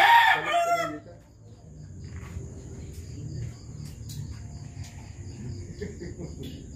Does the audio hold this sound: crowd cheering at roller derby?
no